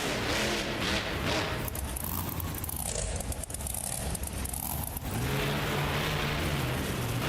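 A monster truck engine revs hard and accelerates at a car crush competition, a loud, steady mid-range roar that surges and holds throughout with a brief dip midway.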